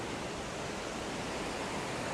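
Paddy's River Falls near Tumbarumba, NSW, gushing in a steady, broadband rushing roar, close and continuous with no other sounds.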